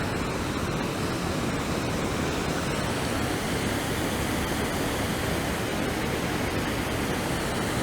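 Water rushing steadily past Bridgeton Mill beside the covered bridge, a continuous broadband roar like a small waterfall or rapids, close and even throughout with no voices.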